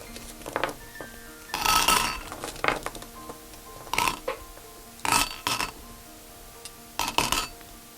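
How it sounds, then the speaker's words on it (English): Glass marbles tumble into the bottom of a floral wedding centerpiece container, giving several separate bursts of clinking and rattling with short quiet gaps between them. "you're going to put your glass marbles in the bottom here"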